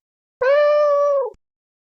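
A single drawn-out cat meow, loud and close, holding a steady pitch for about a second before fading out at the end.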